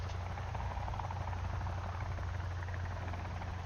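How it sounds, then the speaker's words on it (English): A helicopter in the video game Sons of the Forest thrums steadily with a deep rotor drone, loud and continuous without a break. "Helicopter? Chopper?"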